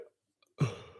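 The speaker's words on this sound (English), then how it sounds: "I've got hiccups." A single hiccup, close and fairly quiet, a short sharp burst after near silence.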